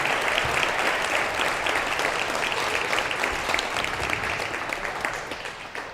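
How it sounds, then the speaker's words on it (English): A school audience gives a sustained round of applause for the high school administrative team, a dense, even wash of many hands clapping that holds steady and eases slightly toward the end. "Let's give a round of applause to our high school administrative team."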